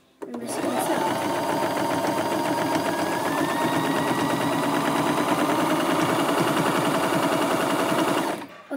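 Sewing machine stitching a scarf with a basic thread, a steady close rapid whirring and clatter running continuously for several seconds before stopping.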